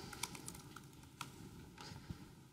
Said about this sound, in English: I can type some text